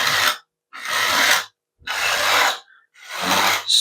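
Sandpaper rasps across the wooden ribs of a giant-scale P-47 Razorback model wing panel in four loud, close strokes separated by short pauses.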